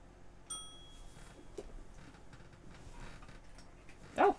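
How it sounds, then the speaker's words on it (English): A cat smacks a small bell and it gives one bright ding that rings briefly and fades. Faint room noise follows, and a short louder sound comes at the end. "He did smack the bell."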